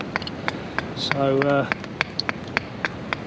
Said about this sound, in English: chopping up a bit of ash at the moment. You can hear him in the background.